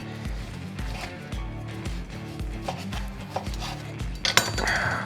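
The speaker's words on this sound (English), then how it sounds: "now you can just cut nice slices with a sharp knife" A sharp knife cutting slices of homemade biltong on a board, with repeated steady strokes and soft knocks of the blade, fairly close and clear with no talk.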